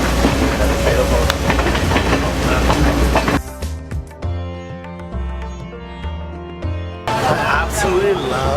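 A train through Sri Lanka's hillside tea plantations, between Ella and Kandy, rumbles along the rails with a loud rushing roar, broken midway by a quieter stretch of rhythmic clatter and a voice speaking.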